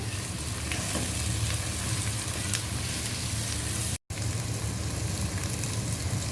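Salt, ground coriander and other spices sizzle steadily in hot oil while being stir-fried for a quick khichuri, a close, continuous frying crackle with a single brief dropout and no talking.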